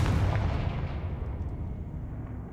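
A Confringo blasting spell goes off in the game Hogwarts Legacy as a single heavy explosion with a deep rumbling boom that slowly fades over a couple of seconds.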